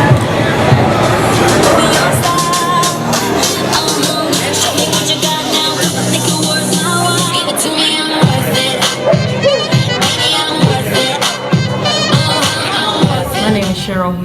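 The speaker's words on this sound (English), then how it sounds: "The sounds of registration, the checking in, players echoed in the main hall." A crowd bustles in a hotel main hall during player registration and check-in, with a steady babble of many voices echoing under music.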